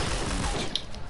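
Rapid automatic gunfire from a weapon in a PS4 shooter game, a dense continuous burst filling the short stretch at steady loudness with faint mechanical clicks mixed in.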